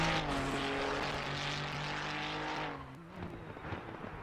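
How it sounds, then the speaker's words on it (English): A six-cylinder race car engine from the Assetto Corsa Competizione racing game holds a steady, buzzing harmonic drone at high revs, then drops in pitch and loudness as the driver lifts off near the end. "I really like the sound for a 6-cylinder."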